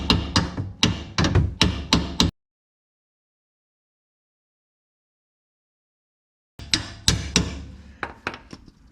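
A hammer taps a bolt through the axle of a PT Cruiser during a Watts link replacement: quick series of sharp metallic blows, a pause of silence, then another burst of strikes.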